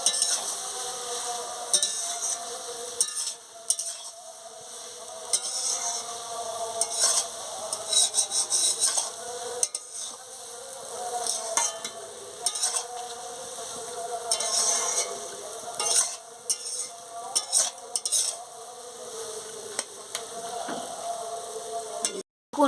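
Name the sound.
fish heads frying in oil while being stirred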